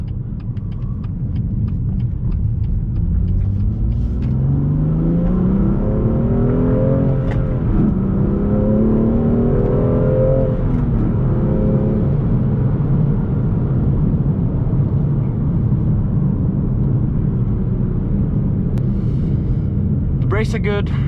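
A manual 2019 BMW M2 Competition accelerates hard, its engine note climbing steadily before a brief dip at the gear change, then rising again through the next gear, loud and close from inside the car.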